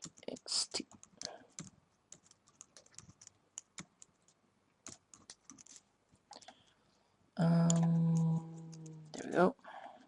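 Typing on a computer keyboard during Windows scripting gives a close series of irregular clicks and taps, followed by someone speaking briefly near the end.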